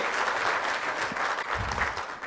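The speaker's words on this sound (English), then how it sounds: "Please give him a big round of applause." Applause fills a conference hall at a tech keynote session as the keynote speaker is welcomed, a full, steady crowd clapping over about two seconds with a low thump or two beneath it.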